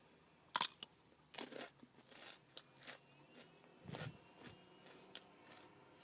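Quiet, close crunchy chewing of fruit snacks, irregular bites and crackles spaced across several seconds against a soft background.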